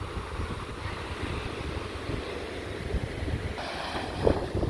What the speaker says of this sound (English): It's not a cold wind, so it doesn't matter us walking in this wind today.